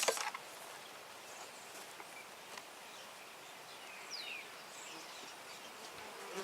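Honeybees buzz inside a hive just after smoking during an early-March inspection, a soft, continuous drone heard close up, with a brief bird chirp and a light knock at the start.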